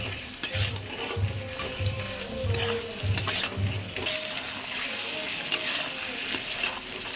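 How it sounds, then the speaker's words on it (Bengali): Onion paste sizzles and fries in a pan for chicken korma, with rhythmic stirring scrapes early on and a steady crackle throughout, heard close. "যে পেঁয়াজটা বেটে রেখেছিলাম সেই বাটাটা দিয়ে দেবো দিয়ে আবারও আমি সুন্দর করে কষে নেব"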